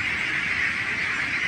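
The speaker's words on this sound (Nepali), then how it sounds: "ल 34-35 दिन पुगेको हाँसहरू हो यो" A large flock of 34-35-day-old local ducks on a big duck farm in Kathmandu keeps up a dense, continuous din of overlapping quacks and calls, steady and loud throughout with no talking.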